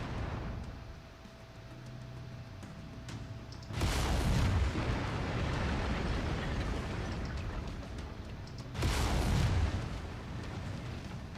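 Mech weapons in the MechWarrior 5: Mercenaries video game let loose two heavy, booming laser volleys a few seconds apart, each a loud sustained burst over a low engine rumble, with no talk.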